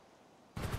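A single loud gunshot-like burst from a video game roleplay, erupting abruptly after a half-second of quiet low hum and ringing out broadly to the end.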